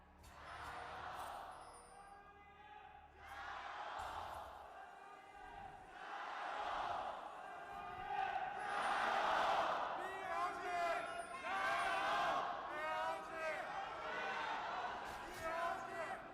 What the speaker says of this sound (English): The BLG roars do tend to be very loud, so cover your ears.